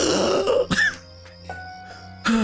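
A game character coughs in Persona 3 FES with a sharp burst of throat-clearing coughs up front, then quiet low hum, and another cough at the end.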